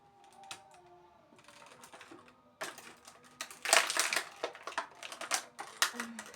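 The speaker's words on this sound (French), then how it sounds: "j'ai bien fait de prendre des ciseaux" Scissors snipping and tearing open a parcel's packaging indoors, a run of sharp crisp cuts and crinkles, close and fairly loud, growing busier toward the end.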